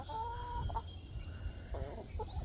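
Backyard homestead chickens give a few soft, low clucks and short throaty calls, faint and close with no talk over them.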